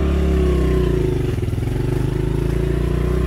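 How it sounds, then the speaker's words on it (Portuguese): A Honda Pop 110 motorcycle engine labours and revs while climbing a steep rural hill, a close, loud, throbbing mid-pitched drone with a rapid pulsing beat and slight rises in pitch. "Sobe essa moto aí, vamos ver se sobe agora."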